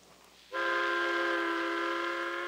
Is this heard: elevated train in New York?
yes